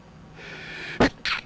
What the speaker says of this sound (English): Oh, excuse my sneeze.